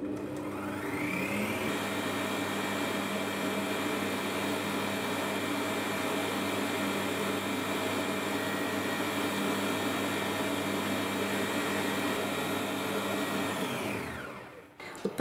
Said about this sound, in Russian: Включаю миксер на 4-ю скорость, желтки добавляю по одному и размешиваю до полного их соединения с белками